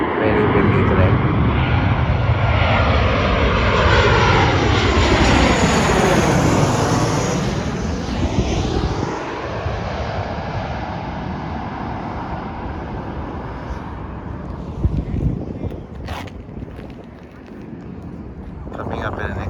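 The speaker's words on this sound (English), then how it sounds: "Plane that's coming in now." An airplane coming in to land approaches and passes overhead on a windy day, its engine roar swelling and sweeping in pitch before fading, with wind noise and a voice speaking underneath.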